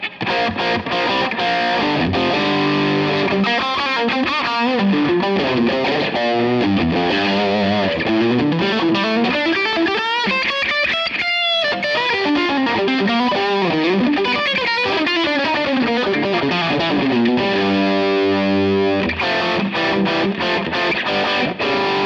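A Telecaster with single-coil pickups played through a Line 6 Helix with heavy distortion, sustained saturated chords and bending lead lines ringing loud and continuous, with a short break near the middle.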